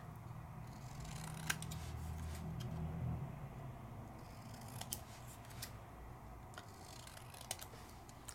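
Scissors trim card paper for a handmade greeting card with several crisp, brief snips spaced apart, faint against a quiet room background.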